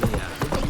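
Roach the horse clip-clops in The Witcher 3, a quick run of close hoofbeats with a hint of game sound behind them.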